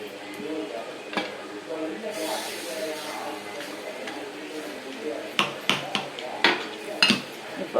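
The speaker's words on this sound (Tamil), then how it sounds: "கொட்டிட்டு கரண்டியால் நல்லா கிளறி விட்டுக்கணும்" A metal ladle stirring spiced moong dal batter for idli after hot oil tempering is poured in, giving soft scraping and then a run of sharp metallic clinks against the vessel near the end, while someone talks throughout.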